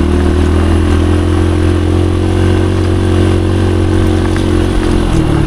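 A motorcycle engine runs loud and close with a steady, rattling drone, the revs holding fairly even throughout.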